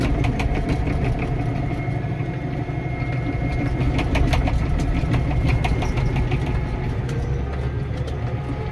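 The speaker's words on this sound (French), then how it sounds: "Le tracteur vibre énormément par rapport à d'habitude." A Massey Ferguson 6480 tractor engine, vibrating far more than normal from failing bearings during stubble cultivation, runs steadily and loudly throughout, a low rumbling drone with rhythmic knocking, close by and without voices.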